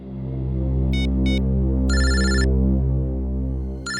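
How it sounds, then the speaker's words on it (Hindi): An office telephone rings with bright electronic bursts, loud and close, over a steady low hum; three or four rings come in short repeated pulses. "ऑफिस से फोन,"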